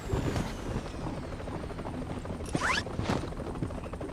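A helicopter in a shooter video game thrums with a steady rhythmic rotor chop throughout, mid-distance and moderately loud, while brief sharp in-game effects and sweeping whooshes cut across it.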